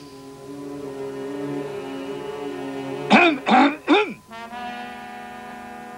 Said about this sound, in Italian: brutta tosse